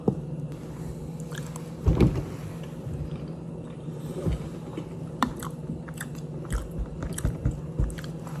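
Slow chewing of a dry, dense, clay-like food, with soft mouth sounds and occasional louder bites over a low steady hum, close to the microphone and without talk.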